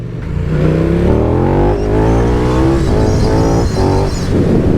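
A car engine revs up and down through a gear downshift, its harmonics sweeping in loud, continuous steps with no talking over it.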